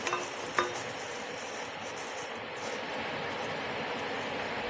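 Chana dal and fenugreek seeds are dry roasted in a pan, making a soft, steady rustle and scrape as they are stirred, with a faint clink near the start.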